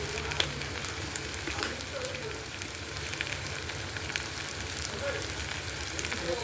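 Tomatoes sauté with turmeric powder in a pan for a spicy chutney, a dense, even sizzle and crackle that runs steadily throughout, close and unbroken by talk.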